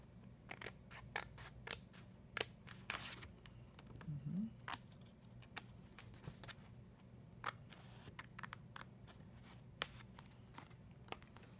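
Scissors snip paper into an L-shaped piece for a handmade gift box and card, a series of short crisp cuts in an irregular rhythm, close and clear, with no talking over them.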